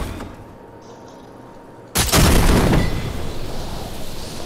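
A cannon launch in Fortnite: a sudden loud blast about two seconds in, then a sustained roaring rush that slowly fades, following a quieter stretch of game ambience.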